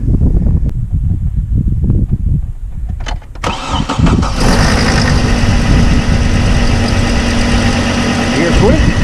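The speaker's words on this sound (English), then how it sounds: "start the engine. We'll see what happens." A Hummer H3 engine with a squeaky belt cranks and catches, then settles into a steady, loud idle that runs on evenly.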